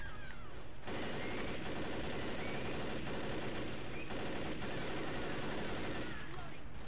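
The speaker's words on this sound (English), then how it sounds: "I don't know why I decided to keep shooting." Dense, continuous gunfire in the Left 4 Dead video game, with overlapping rapid shots and bursts pouring at a startled witch for several seconds, loud and sustained with brief dips between volleys.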